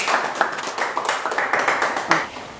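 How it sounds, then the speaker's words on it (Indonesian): Students in a classroom clap for a classmate in a short, close burst of uneven handclaps lasting a couple of seconds. "berikan tepuk tangan untuk Nurul ini."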